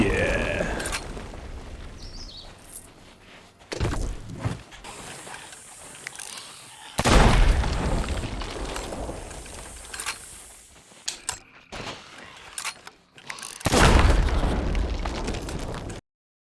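Barrels exploding and blowing up skeletons in a pirate voyage video game, several loud booming blasts spaced a few seconds apart, each with a brief crackling tail, alongside clicking game mechanisms and no talk.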